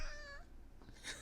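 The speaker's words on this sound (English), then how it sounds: "So you guys heard my little kitty." A Bengal cat meows once with a drawn-out, tonal cry, followed by a brief quieter yowl near the end, heard close and without talk.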